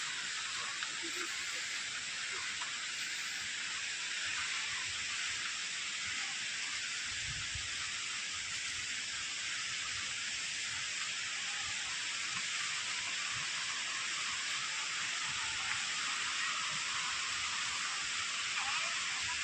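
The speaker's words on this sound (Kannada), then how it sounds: "ನಿಮಗೆ ಸೌಂಡ್ ಕೇಳಿಸ್ತಾ ಇರಬೇಕು ಫಾಲ್ಸಿಂದು" Rushing water at Vibhuti Falls in summer, with low flow but strong pressure, a constant loud broadband roar that fills the scene without pause for nearly twenty seconds.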